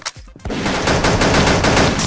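Rapid gunfire in the mobile shooter game Pixel Gun 3D, a dense, loud burst of overlapping shots that begins after a brief pause and keeps firing steadily for the rest of the moment, with no talking.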